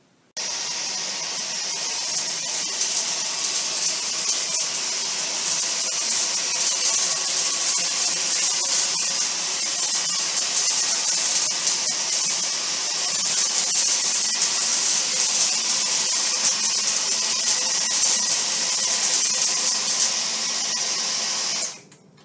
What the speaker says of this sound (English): That pass was in eco mode, and as you could see, the vacuum did a very good job.